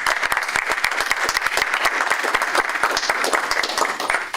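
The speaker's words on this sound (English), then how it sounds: "Let's give a round of applause to AMMnet." A conference audience applauding, with dense, loud, sustained clapping that holds steady throughout.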